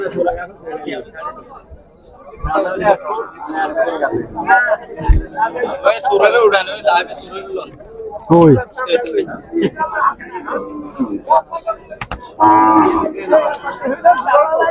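Cattle at the Amin Bazar cattle market in Noakhali low and moo several times, some calls loud and close, amid constant crowd chatter and people talking nearby.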